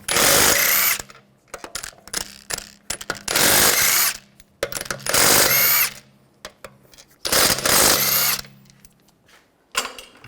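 Pneumatic or electric impact tool with a 17mm socket spins lug bolts off the rear wheel of a 2009-2010 BMW 535i xDrive, four loud close whirring bursts of about a second each with quiet gaps and clicks between.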